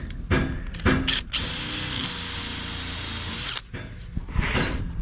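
A drill bores out 5/8 inch bolt holes in the timber of a wooden boat during restoration, one steady high whine lasting about two seconds, close and loud, with knocks and handling noise before and after.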